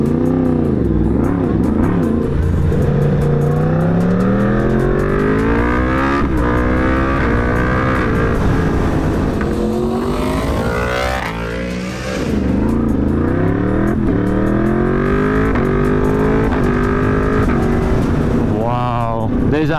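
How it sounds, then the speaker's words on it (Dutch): A car's exhaust gives a deep, dark rumble while accelerating hard. The engine note rises through the gears again and again, loud and close, with voices heard over it at times. "Deze uitlaat, ik ben echt gewoon verbaasd hoe super mooi lekker donker die klinkt."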